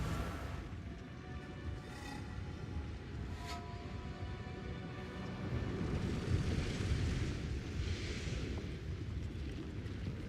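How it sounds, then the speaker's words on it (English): A deep explosion rolls out in Path of Exile 2, its low rumble swelling midway and lingering as a sustained roar, with faint metallic tones and soft whooshes earlier on. "Now there's an explosion."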